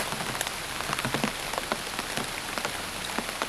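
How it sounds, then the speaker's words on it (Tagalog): Heavy rain pours down steadily, a dense hiss with scattered sharper drops pattering close by. "malakas na lalo yung ulan"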